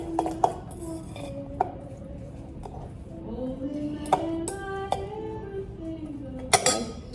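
Salt and ingredients being stirred in a bowl, with scattered sharp clinks of a utensil against the bowl over a soft, steady background.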